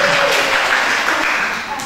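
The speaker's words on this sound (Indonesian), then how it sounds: "Nah itu ya, tepuk tangannya." Audience at an Islamic Quran tafsir study session breaking into applause, a dense burst of clapping that stays loud and then begins to fade, with a voice faintly under it.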